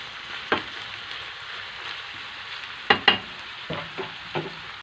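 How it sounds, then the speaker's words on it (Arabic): Peppers and onion frying in a pan give a steady close sizzle, with a few sharp utensil taps and stirring scrapes over it. "غادي نضيف عليها الفلفل، من بعد غادي نخليها تشحر على الخطر ديالها"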